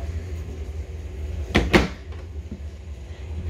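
A cabinet door in a 2021 Outback 335CG RV is opened or closed with a couple of close, sharp wooden knocks in quick succession against a quiet room background.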